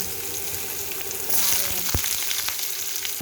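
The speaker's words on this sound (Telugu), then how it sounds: "తర్వాత అల్లం ముక్కలు అంటే అల్లం కొంచెం వేగితే బాగుంటుంది అన్నమాట అందుకనే ఫస్ట్ అల్లం ముక్కలు వేసాను" Ginger pieces frying in hot oil in a pan, a close, continuous crackling sizzle that swells slightly midway, with a single sharp tap of a utensil; no voices.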